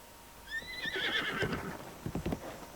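A horse in a Zelda video game whinnies loudly at close range, a rising then falling neigh with a few hoof clip-clops behind it and no talk.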